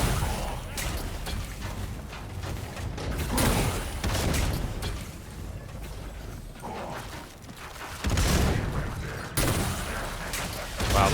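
Railgun gunfire from the Killing Floor 2 video game, sharpshooter play with headshots: loud, close shots and impacts in irregular bursts, over mechanical clanks and a rumbling game soundscape, with occasional voice-like sounds in the mix.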